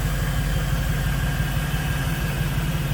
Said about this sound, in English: Nice and smooth running engine.